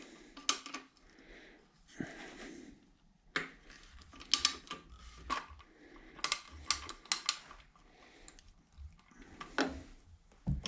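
A 3/4 inch socket ratchet works a bolt loose on a Harley Davidson Sportster, giving sparse, close metallic clicks and clanks with pauses and some tool handling.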